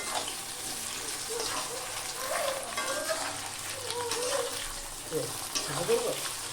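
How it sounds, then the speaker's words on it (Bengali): Marinated chilli chicken pieces fry in hot oil, a steady broadband sizzle running throughout with brief bubbling bursts, close and moderately loud, with no talking over it. "এটা এক এক করে দিয়ে চিলি চিকেনের মাংসটা ভেজে নিচ্ছি"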